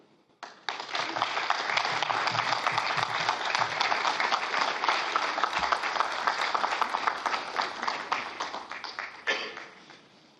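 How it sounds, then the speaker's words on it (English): Applause for the O3b SES task teams after a Soyuz launch of O3b satellites, a sustained burst of dense clapping from a room of people that starts abruptly and stops cleanly after about nine seconds. "let's have a big round of applause for all the O3b SES task teams"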